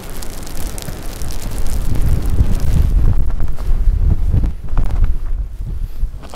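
Blustery wind gusts batter the microphone on an open Lake District fell in winter, a loud continuous roar with surging rumbles and no voices.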